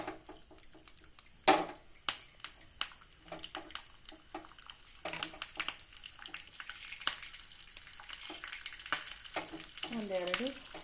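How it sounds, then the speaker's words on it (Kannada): Mustard seeds, cumin and curry leaves fry in hot oil with sharp crackling pops and sizzling bursts, irregular and close, some louder spurts near the middle and end. "ಇದಕ್ಕೊಂಚೂರು ಸಾಸಿವೆ ಜೀರಿಗೆ ಆಮೇಲೆ ಕರಿಬೇವು ಹಾಕ್ತೀನಿ ನೋಡ್ರಿ ಒಂಚೂರು."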